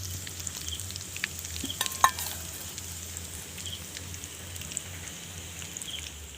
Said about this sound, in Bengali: দেখুন চপগুলো আমি খুব ভালো করে ভেজে নিয়েছি, এবার আমি ছাঁকনির সাহায্যে তুলে নেব